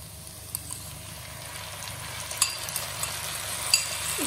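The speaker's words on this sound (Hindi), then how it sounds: "प्याज लाइट ब्राउन हो चुके हैं, अब हम इसमें डालेंगे 2 बारीक कटे टमाटर" Finely chopped tomatoes added to light-brown frying onions in a pan while cooking arbi masala fry, giving a steady close sizzle with a few soft clinks and stirring knocks on top.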